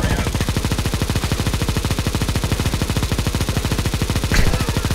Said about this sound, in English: This is the perfect gun for spamming walls.